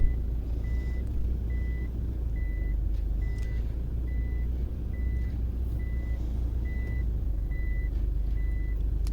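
A van's reversing alarm sounds as it backs toward a trailer, sending a steady string of evenly spaced beeps over a continuous low engine rumble, close and fairly loud with no talk.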